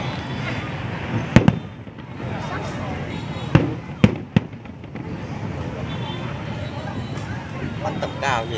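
A fireworks display launched outdoors in Da Nang, with several sharp loud bangs and crackles scattered over a steady crowd murmur, as people talk throughout.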